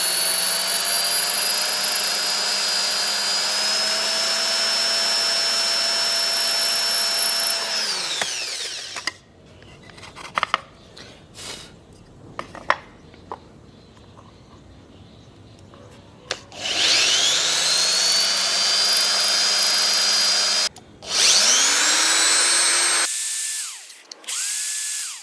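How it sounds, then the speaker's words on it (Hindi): Power drill boring holes in a homemade amplifier panel, a loud sustained high whine that winds down, then scraping and handling sounds, then two more drill bursts spinning up and stopping. "चलिए इसमें अब हम ड्रिल कर लेते हैं"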